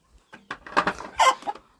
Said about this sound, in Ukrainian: От ти курка